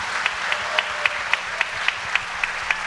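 Audience applause at a family music performance, a steady wash of clapping from a crowd, moderately loud and continuous with a few sharper claps standing out, no talking over it.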